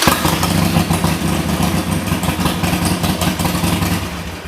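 A 2007 Harley-Davidson Sportster engine idles steadily just after starting, a loud, close, continuous low throb with an even rumble and no talk over it.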